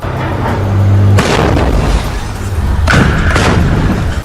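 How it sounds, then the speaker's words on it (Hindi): A loud, heavy boom from rocket launcher fire bursts out, followed by another powerful blast a moment later, with rumbling noise lingering between the explosions, in Khan Younis, southern Gaza. "उसके रॉकेट दागते ही एक और कान फाड़ देने वाला धमाका हुआ।"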